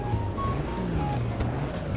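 A 1950 vintage race car in Assetto Corsa drones with a steady, mid-pitched engine note that rises and falls slightly in pitch, fairly faint and continuous.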